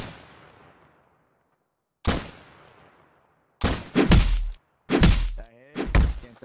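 Sharp, loud gunshots ring out from a WWII-era rifle in Garry's Mod roleplay: one shot, a pause, then several more in quick succession, each cracking up close and decaying into a short echo.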